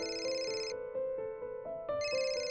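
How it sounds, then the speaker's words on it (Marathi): A phone rings indoors with a bright electronic ringtone melody, repeated tonal phrases with a brief pause between bursts, fairly quiet and without talk. "सुनैनाचा फोन."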